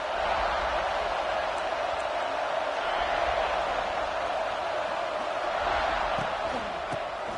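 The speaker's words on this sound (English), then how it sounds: "They challenge this crowd to bring the energy, and I'd say they're doing that." Stadium crowd in the NCAA 26 college football video game, Texas versus South Carolina: a dense, steady roar of cheering fans fills the whole stretch at high volume, with no break.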